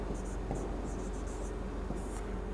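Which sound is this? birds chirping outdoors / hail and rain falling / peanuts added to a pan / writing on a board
writing on a board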